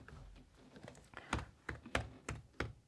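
Typing on a computer keyboard to enter a surname: a handful of crisp keystrokes, soft at first and then five or six sharper, evenly spaced clacks, close and alone with no talking.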